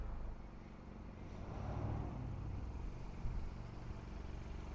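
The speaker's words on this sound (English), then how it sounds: "Great running 4-cylinder." A 2020 Oreion beach buggy's 4-cylinder engine with automatic transmission and stainless steel exhaust runs steadily close by, a continuous low rumble that swells gently and then settles.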